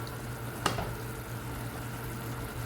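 Water added to a pan of sizzling masala chicken curry makes one sharp hiss, then a soft, steady sizzle and bubbling that holds quietly to the end.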